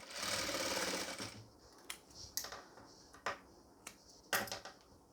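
A sewing machine stitches a pleated nightie, starting with a short whirring run, then a few sharp clicks and taps as the fabric is shifted, close and fairly quiet, with no speech.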